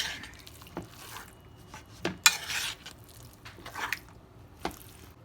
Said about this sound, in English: Now we're going to mix everything together.